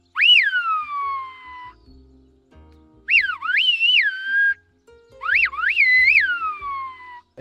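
Silbo Gomero, the whistled language of La Gomera, rings out in three loud, close phrases, each a piercing whistle that slides up and down in pitch, with short silences between them.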